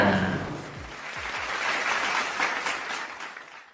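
Applause from an audience at a live show thanking those in attendance, a broad wash of clapping that builds and holds steady, with a voice at the very start.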